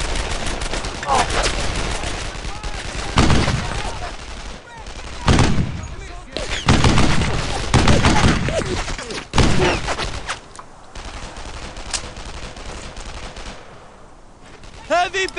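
Heavy gunfire from rifles and machine guns in a World War II Brothers in Arms battle, with dense bursts and loud booming shots rolling continuously while soldiers shout orders.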